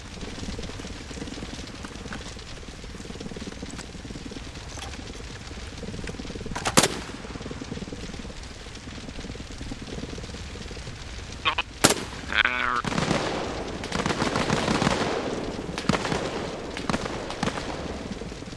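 A breaching charge goes off in the ARMA Reforger milsim as a sharp blast at a bunker, then a burst of gunfire cracks, over a steady background rumble with quiet radio-style talk.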